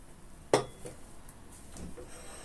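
A decorative ceramic cup is picked up and gives one sharp clink against other dishes, followed by faint handling sounds in a quiet kitchen.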